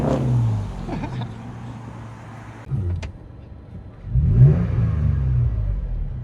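A 2010 Toyota Tacoma 4.0L V6 pickup with a Borla ProXS exhaust idles with a low exhaust rumble, a click and brief lull, then revs up into a louder throaty roar nearby.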